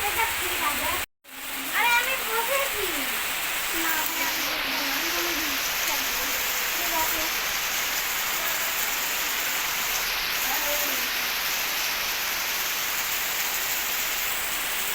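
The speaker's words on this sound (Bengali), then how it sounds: "বৃষ্টি হচ্ছে এদিকে প্রচণ্ড" Heavy rain pours down outdoors near a roadside with roadworks, a dense, steady hiss that fills the whole stretch with barely any let-up, while a faint voice murmurs briefly underneath.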